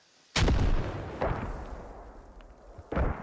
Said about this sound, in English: And that was a grenade shot, grenade launcher